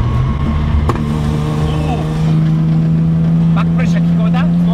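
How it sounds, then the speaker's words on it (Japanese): A 1970s-era Datsun 240Z (Fairlady Z) engine idles with a steady low exhaust drone, heard from inside the car while people talk over it. "バックプレッシャー聞こえた？"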